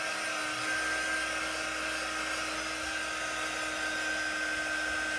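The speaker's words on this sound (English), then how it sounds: "I will blow you to death with my quick dry tool" A quick dry tool blows air nonstop at a steady level, giving a loud, close, high-pitched whine over broadband airflow hiss.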